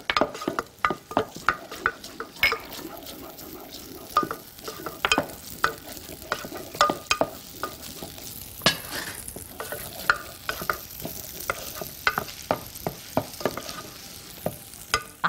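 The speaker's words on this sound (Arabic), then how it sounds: "خلاص كده نقلب بقى" Food is stirred in a hot frying pan for a pumpkin and minced meat dish, with steady sizzling and frequent sharp scrapes and taps of a spoon against the pan, close and fairly loud throughout, no talking.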